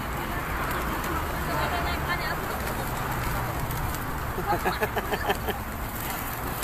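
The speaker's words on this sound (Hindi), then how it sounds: "कबूतर है माशाल्लाह माशाल्लाह" Pigeons coo softly amid a busy outdoor hum of crowd chatter and passing traffic in Makkah, with a few wingbeats near the end.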